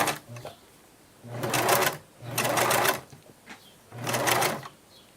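Sewing machine stitching a glove in three short bursts of rapid mechanical whirring, separated by pauses, close and fairly quiet.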